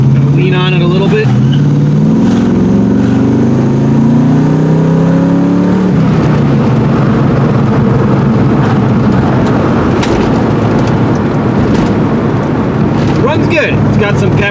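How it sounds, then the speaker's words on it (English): A Ford Foxbody Mustang engine revs and climbs through acceleration from inside the car, loud and rising in pitch, then settling into a steadier drone after a shift, with a voice talking over it. "You step on it, it sounds great"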